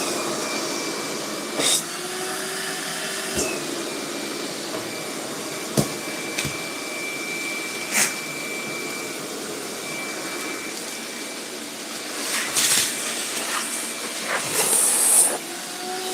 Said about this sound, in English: I may have already clogged the vacuum.